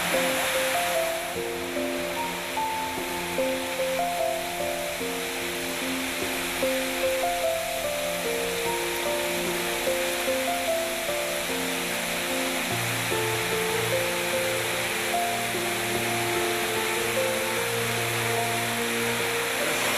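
Constant rushing roar of a waterfall in Arkansas, broad and steady throughout, with a faint tonal hum layered underneath.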